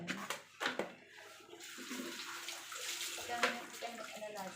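Water running into a kitchen sink fitted with a strainer, a quiet continuous rush and splatter with a person talking over it.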